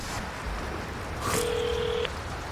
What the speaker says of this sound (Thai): อ่ะ มีสายโทรศัพท์เข้ามา